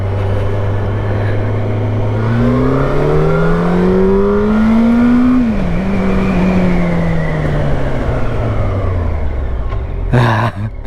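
A Yamaha FZ8 motorcycle engine revs hard under acceleration toward about 7,000 RPM, loud and close, with rising pitch sweeps as it shifts through the gears. A brief noise comes near the end.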